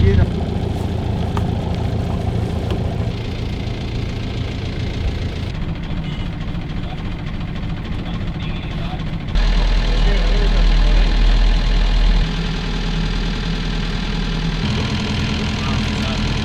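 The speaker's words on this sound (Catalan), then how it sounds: "anem a encendre motors i de més i ens anem cap allà" Boat engines rumble loudly and close at idle after being started, a steady low throbbing that swells and settles as the revs shift.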